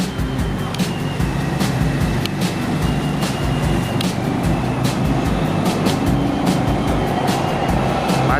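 A Red Line electric commuter train rumbles steadily nearby as it arrives at Bang Son station, with rhythmic clicks and clacks of wheels over track joints, continuous and fairly loud.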